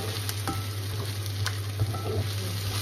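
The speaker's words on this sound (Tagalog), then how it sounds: "Ilagay na ako ng onions saka karne." Thinly sliced onions and meat sizzle in a pan while being stirred, a soft steady frying hiss broken by faint scraping and clicking from the utensil, with a low constant hum beneath.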